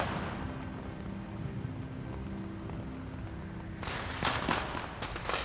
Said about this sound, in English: Look at the pretty fireworks.